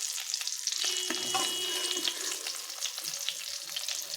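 Paneer pieces frying in hot oil in a pan, a steady close sizzle with crackling pops and occasional stirring scrapes, continuous and fairly loud with no talk.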